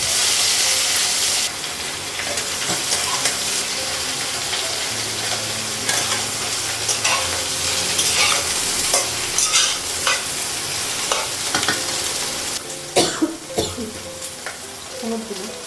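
Eggplant fries in a hot pan with a dense, continuous sizzle, while a spatula stirs and scrapes it in repeated clatters that come sharper and louder near the end.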